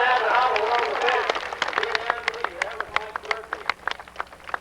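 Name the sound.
audience applause for a cowboy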